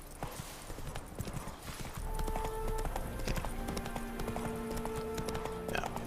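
Horse hooves clip-clop steadily on a path in The Witcher 3 video game, a brief whinny rising over the hoofbeats, with faint talk in the background.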